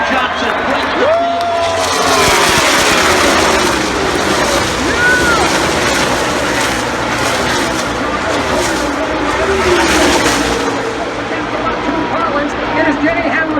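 NASCAR stock cars roar past the grandstand at the 2016 Auto Club 400 on the final lap, a loud, continuous engine wash with rising and falling pitch sweeps, crowd noise and a commentator's voice over the public address beneath.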